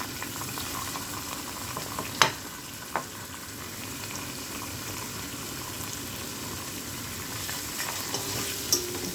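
Leek and onion fry in melted butter, a steady close sizzle and crackle that holds evenly, with a couple of brief sharp clicks from stirring and no talk.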